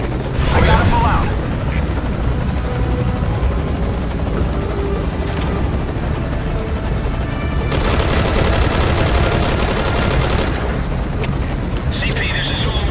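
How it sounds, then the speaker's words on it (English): Helicopter rotor and gunfire in the Metal Gear Solid V video game, a constant loud chopping drone with bursts of rapid fire, including a harsh dense stretch midway, under radio-style talk. "Gunfire. No fix in the position."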